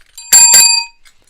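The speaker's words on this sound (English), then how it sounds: "that's my Elon Musk bell" Two quick bright rings of a bicycle bell used as a sound effect, close and loud, ending in a short fading tail with no talk.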